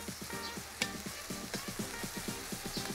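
Tomato paste frying in a kazan with stewed meat for chashushuli, a steady close sizzle with soft rhythmic stirring scrapes and no voices.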